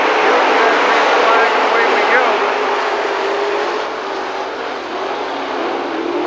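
Late model race cars circling Lernerville Speedway in 1994, a steady loud roar of several engines blending into one continuous drone, with an announcer talking over it throughout.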